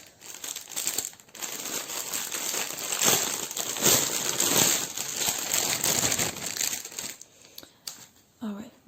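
A package is opened during an unboxing, with continuous crinkling and crumpling of wrapping, loud and close, for most of the clip before tapering off near the end.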